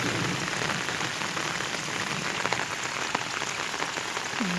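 Heavy rain pours down steadily with a dense, unbroken hiss of drops beating close by on road and flooded fields, with no voices.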